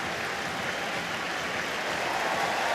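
Large stadium crowd at a Wigan versus Leeds rugby league match applauding and cheering Sir Billy Boston, a dense, sustained roar of clapping heard from within the stands.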